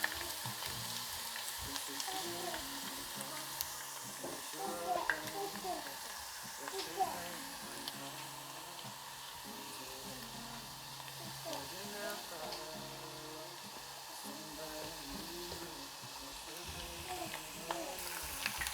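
Liver frying in a pot for two people, stirred with a silicone spatula or wooden spoon; a steady, close sizzle and hiss continues throughout with soft stirring scrapes and a faint voice underneath.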